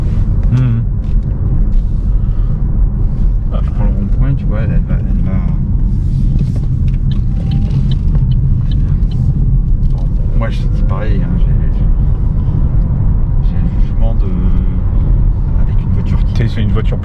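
Inside an Opel Mokka electric car rounding a roundabout, a constant low road and tyre rumble fills the cabin while someone talks over it throughout.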